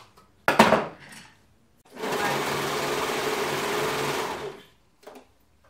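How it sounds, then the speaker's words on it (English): Overlocker serging a thick sweatshirt seam, one loud steady whirring run of about three seconds, close, preceded by brief handling clatter. "Now I'm going to overlock this."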